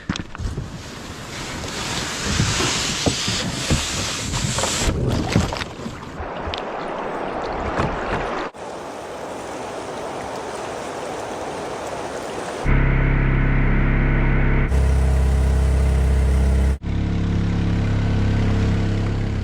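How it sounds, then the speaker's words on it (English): A jet-powered Mokai kayak motoring across open water in Alaska, with wind buffeting the microphone and water rushing past, then a steadier, louder engine drone in the final seconds. "I'm gonna hop in the Mokai"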